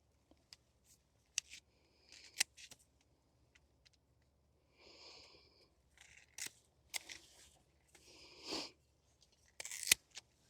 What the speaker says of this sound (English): I'm going to get this tree cut back like this